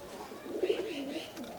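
An Alibala pigeon coos once in a low, rolling burst, close and fairly soft, with quiet background noise and no talk.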